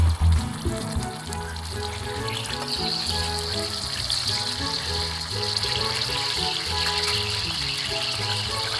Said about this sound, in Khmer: យើងចាប់ផ្ដើមដាក់ប្រេងឆាចូលខ្ទះបន្ទាប់មកដាក់ត្រីចូល